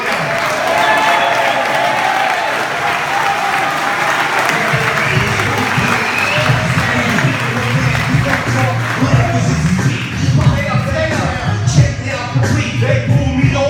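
A live audience cheers and applauds loudly in a dense continuous roar, with whoops and hand claps swelling near the end and voices mixed into the din.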